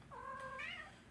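A single pet house cat gives one clear, rising meow of about a second, close to the listener and quiet, with nothing else audible.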